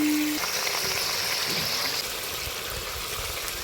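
Ginger paste cooking with turmeric, chili powder, salt and a splash of water in a pan, a loud steady bubbling sizzle with faint stirring, continuing throughout.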